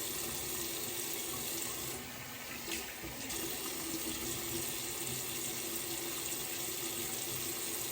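Tap water runs steadily from a faucet into a sink to rinse a safety razor with a Karve C plate, a continuous close splashing rush with a brief shift in flow midway.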